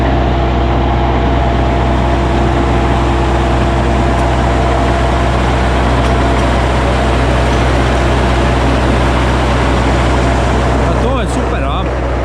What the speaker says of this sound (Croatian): pitali ste me je li Zetorov motor, pošto ima Zetorov zvuk.